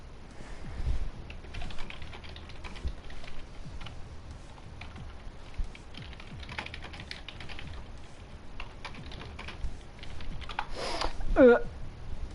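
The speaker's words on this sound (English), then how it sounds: "Sorry, I was just typing." Computer keyboard typing during a Formula 1 video game league race broadcast in Canada, a steady run of quiet clicks and key taps throughout, alone without talk.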